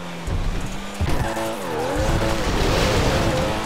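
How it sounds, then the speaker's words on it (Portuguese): A car in GTA RP skids hard, tires squealing in long wavering whines over a loud, steady engine roar, close and continuous throughout. "Esse carro não desliza muito, desliza bastante."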